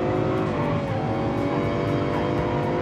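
A V12 engine in a muscle car roars under steady, partial throttle in a racing video game, a dense continuous drone at high revs, loud and unbroken.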